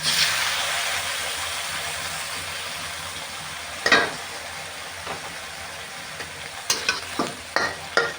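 Catfish stir-fries in a pan with fish sauce, starting as a loud sizzle that slowly fades, then a few sharp spatula knocks and scrapes near the end.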